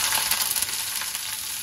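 Chopped onions sizzle in a hot pan with browned garlic, giving a steady, bright crackle that is close and fairly quiet.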